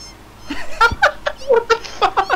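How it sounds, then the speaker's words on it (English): A cat meows over and over on a loop inside the video game Satisfactory, a quick string of short, bright, pitched cries that stop and start in close succession. "Meow, meow, meow, meow, meow."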